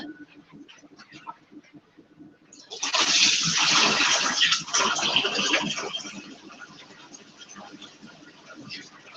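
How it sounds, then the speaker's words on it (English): Hands being washed under a running tap in a kitchen, with a steady rush of water that starts suddenly, stays close, then eases off, over some faint background sounds. "And then I'm going to wash my hands."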